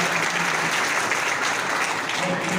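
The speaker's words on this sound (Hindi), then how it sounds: "एक बार तालियां बजाइए, आप लोग तालियां।" Sustained, dense clapping from a seated crowd at a prize ceremony fills the whole stretch at an even, loud level, a continuous wash of many hands close by without any speech over it.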